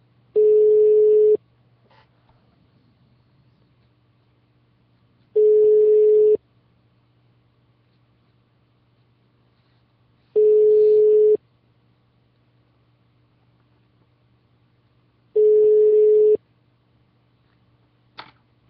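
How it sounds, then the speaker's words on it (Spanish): A telephone ringback tone sounds while a call is placed, four long evenly spaced tones about five seconds apart over a low steady hum, with a faint click at the end. "Está repicando el teléfono"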